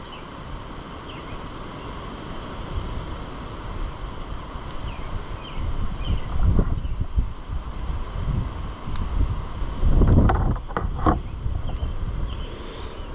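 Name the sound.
wind blowing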